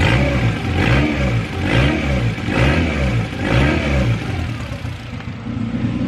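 A turbocharged Honda CR-V engine revs repeatedly in loud, rhythmic pulses, rising and falling about five times with a raw, open-downpipe rasp from a missing wastegate fire ring or faulty wastegate.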